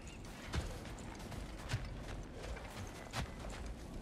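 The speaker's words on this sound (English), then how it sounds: "And that's a horse. Don't see many of those in these parts." Horse hooves clip-clop at a slow walk in God of War Ragnarök on PS5, set in snowy terrain, with three distinct louder steps among softer ones and faint background ambience.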